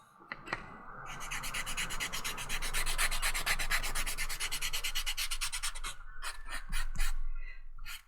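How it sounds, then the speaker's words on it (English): A paper tortillon rubbed back and forth on sandpaper to clean it, a close, rhythmic scratchy rasp of quick repeated strokes lasting several seconds, then a few separate short scrapes. "you can use pieces of sandpaper or emery boards to clean your tortillons"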